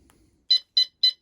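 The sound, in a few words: three alarm beeps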